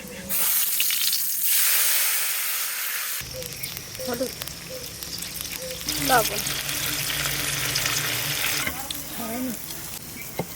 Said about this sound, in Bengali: কড়াইতে জল দিয়ে দেবো